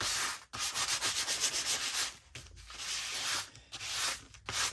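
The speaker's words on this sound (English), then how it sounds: "So I'm going to do a quick little sandpaper to give it a little tooth." Sandpaper rubbing over shiny, glossy junk mail paper in quick strokes, a steady close scratchy hiss in three bursts separated by brief pauses, with no talking.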